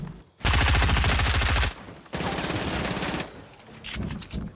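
Enemy gunfire in a shooter video game, loud sustained automatic bursts rattling close by, a long stream followed by a second extended volley and trailing shots.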